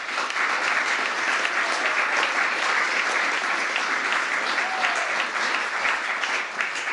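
Steady applause from a crowd at a White House Menorah lighting ceremony, dense and sustained clapping throughout with no break, loud and close.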